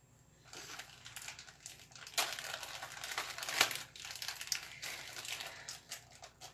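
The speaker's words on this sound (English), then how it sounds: "The rubber is stuck to the plastic bag." A rubber spatula being worked out of a crinkly plastic bag, a continuous close crackle and rustle of plastic with a few sharper snaps, quiet and steady.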